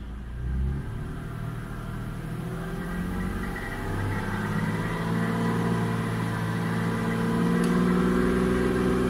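Nissan 350Z engine raised from idle to a steady 2,500 RPM hum after a radiator replacement, a continuous close mid-pitched drone that climbs slightly and holds with no talking.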